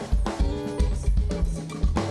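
Mexican big band jazz plays loudly and close, with punchy brass hits and a steady swinging rhythm driven by strong low-end beats, all instrumental with no talking.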